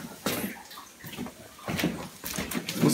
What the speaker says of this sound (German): Kann ich das Wasser nicht irgendwie ausschalten